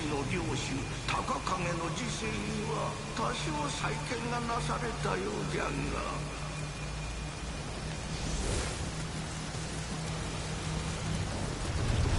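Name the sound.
rain in the video game Nioh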